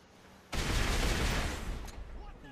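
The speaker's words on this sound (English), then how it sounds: "Hayden, if you want to shoot off the missiles" Missiles launched from a weaponized vehicle in GTA Five, a sudden loud burst of roaring blast noise that holds steady for well over a second before easing into a softer rumble, with no talk over it.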